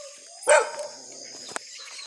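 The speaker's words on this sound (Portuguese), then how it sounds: "Cachorro abusando." A single sharp dog bark rings out close by outdoors during breeding season, followed by faint birdsong and quiet background.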